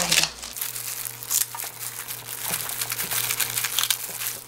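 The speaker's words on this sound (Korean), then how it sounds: "이럴 때 한번 이렇게 잘라주면 돼요" Scissors snip through salted cabbage for a cabbage kimchi, giving close, dry crinkling and crunching cuts in a steady run with no speech.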